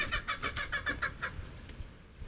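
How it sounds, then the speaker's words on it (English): A hen clucks loudly in a rhythmic run of about seven short, evenly spaced calls near a backyard compost pile, then falls quiet with only faint background noise. "a hen who's always loud no matter what in the morning"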